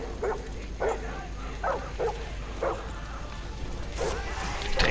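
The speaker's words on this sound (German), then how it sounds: "Mein Hund." A dog in the game Far Cry barks in a series of about seven short, evenly spaced woofs over a steady low background rumble, at moderate distance.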